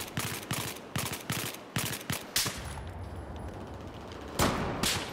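Gunfire in Battlefield 4 multiplayer, a rapid series of sharp shots at a steady rhythm, then a pause with background rumble and another loud burst near the end, close and without talk.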